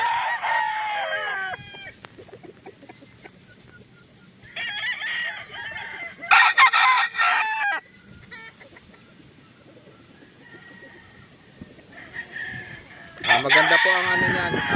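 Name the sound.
yellow-legged hatch brood stag rooster crowing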